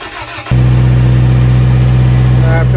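A Toyota 4AGZE engine in an AE71 car cranks briefly, then catches and settles into a loud, steady idle that holds close and constant to the end.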